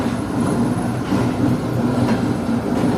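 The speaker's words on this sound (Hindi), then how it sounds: "तो ये आ रही है 2 डाउन खैबर मेल GU14 9010 के साथ। प्लेटफॉर्म नंबर 1 पर लग रही है रोहड़ी जंक्शन के" The 2 Down Khyber Mail passenger train pulls into platform 1 at Rohri Junction, a loud, continuous rumble of rolling wheels and carriages with a low rhythmic clatter passing close by.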